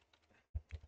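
A computer keyboard being typed on, with a faint patter of light key taps followed by a brief pause and then a few louder, closer clacks, no voices.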